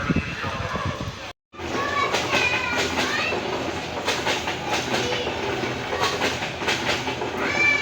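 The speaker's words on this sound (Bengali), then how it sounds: "আস্তে আস্তে ধীরে ধীরে ট্রেনটি ছেড়ে যাচ্ছে।" A long Jamalpur Express passenger train pulls slowly out of a station on its morning run towards Mymensingh, with loud steady rumbling, rhythmic clacking over rail joints and squealing wheels, briefly cut off once near the start.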